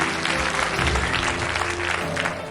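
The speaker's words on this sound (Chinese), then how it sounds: "咱们掌声欢迎两位" Studio audience applause welcoming two doctors onto a Chinese television health show, a steady, dense burst of clapping throughout, with faint voices underneath.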